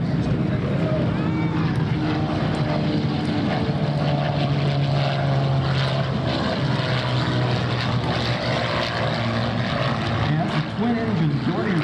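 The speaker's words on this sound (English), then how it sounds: "Nothing else in the world sounds like a T-6." A North American T-6 aircraft's radial propeller engine drones steadily and loudly at an airshow, a continuous rasping roar with a faint voice underneath.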